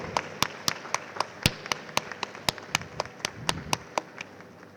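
Audience at a school annual show clapping for parents, a brisk run of sharp, distinct hand claps at fairly close range, sparse rather than a dense roar, with no talking over it.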